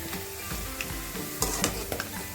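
Okra fried with garlic and chilli sizzles steadily in a pan, close and continuous, while a spoon stirs and scrapes with a few soft clinks against the metal.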